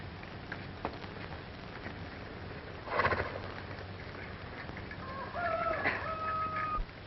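A horse in a 1930s Western scene whinnies near the end, a rising and falling neigh over soft outdoor background, with a brief thump or hoof sound midway and no talking.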